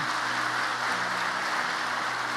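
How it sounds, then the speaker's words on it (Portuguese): A church congregation breaking into applause for the Lord, a dense, continuous wash of many hands clapping at steady loudness throughout, with no voices standing out. "Você pode dar uma aplauso ao Senhor?"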